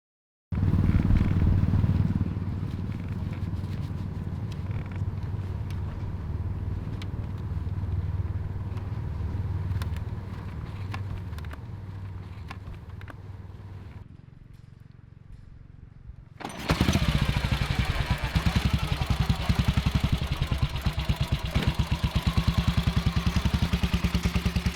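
Vintage sidevalve motorcycles riding along, a loud steady engine drone that fades for a moment before a close, harsh engine roar surges back in and continues.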